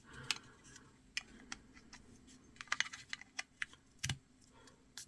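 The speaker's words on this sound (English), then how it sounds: "Okay, so they click into place." Small plastic sliders snap into a Mercedes-Benz key fob case, producing a series of faint, crisp clicks and ticks scattered irregularly, close up in a quiet room.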